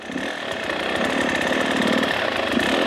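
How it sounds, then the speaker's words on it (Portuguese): A trail dirt bike engine runs at minimal throttle, a steady buzzing chatter that rises slightly in the first second and then holds an even idle-like rattle throughout. "Vou ligar a moto, agora eu tenho controle de embreagem"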